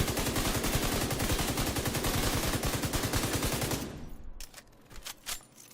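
Rapid automatic gunfire in the video game The Division 2, a loud, dense stream of shots that stops abruptly, followed by a few scattered clicks and softer game sounds.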